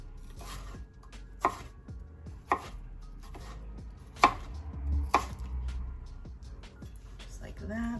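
Knife slicing unpeeled Persian cucumbers into thin strips on a board, giving a handful of sharp, separate chops spaced about a second apart, close and moderately loud, with quiet background between strokes.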